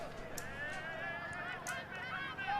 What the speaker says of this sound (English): the horses are out in full force here today